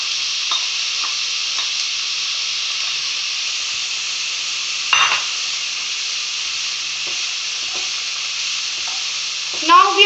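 Onion and capsicum frying in a pan, a steady loud sizzle throughout with occasional scrapes and clinks of stirring.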